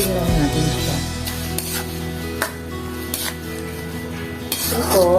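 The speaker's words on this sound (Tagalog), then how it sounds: "Haluin lang natin siya." A metal utensil stirs shrimp in a pan, scraping and clinking against the cookware in several short, close strokes while a person talks over it.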